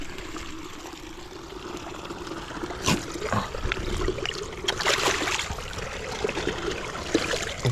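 Water drains and trickles from a flooded rice paddy during land preparation, a steady running wash with a few louder splashing surges, fairly close, with no talk.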